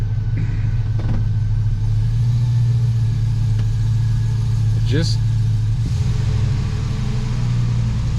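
A Sierra or Silverado pickup truck with a swapped 4L80e transmission and a torque converter that won't lock up, driving with a steady low engine drone and road rumble and a brief rising whine midway.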